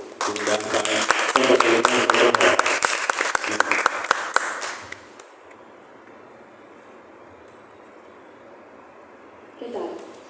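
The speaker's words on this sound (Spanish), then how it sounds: "Quiero pedirles un fuerte aplauso para ella" An audience at a talk on branches of horror applauds loudly for a guest for about five seconds, the clapping then dropping away into quiet room tone with a faint voice near the end.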